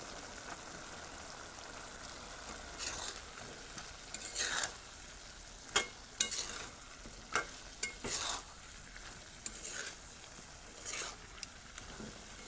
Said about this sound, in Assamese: আলু আৰু বাঁহগাজখিনি যাতে মাংসৰ লগত ভালদৰে মিহলি হৈ যায় সেইকাৰণে 2 মিনিটমান ভালদৰে লৰাই থাকিম।